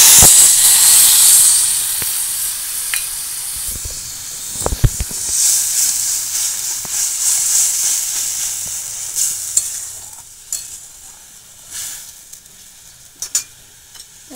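Paste of green chili and mustard hits hot oil in a kadai with a loud, bright sizzle that slowly fades into a softer hiss, broken by a few scattered clinks and scrapes.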